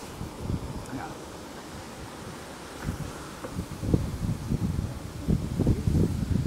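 Outdoor wind gusts against the microphone in uneven low rumbling bursts. The buffeting grows stronger and more frequent toward the end, with faint rustling underneath.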